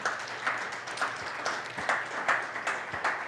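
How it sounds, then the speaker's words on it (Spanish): A church congregation gives a round of applause as an offering of praise, many hands clapping in an irregular wash with a few louder swells, fairly distant and reverberant, no talking over it. "Dale una ofrenda de palmas a nuestro Señor."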